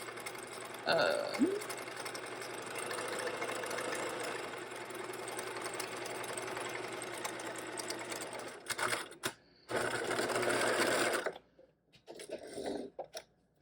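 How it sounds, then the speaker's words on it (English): Sewing machine top stitching bag straps, a steady close mechanical whirring hum that runs continuously, then stops and starts in shorter bursts near the end. "top stitch all 2 of your straps on both of their sides"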